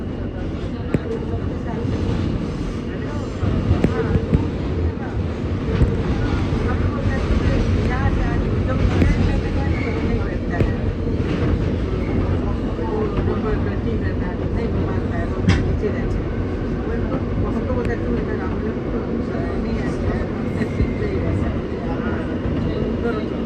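Interior of an R160 E subway train in New York running from Jamaica Center, a continuous rumble of wheels and motors with rattling and occasional squeals, and voices talking over it.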